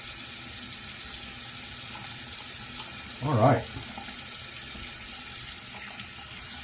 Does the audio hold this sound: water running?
yes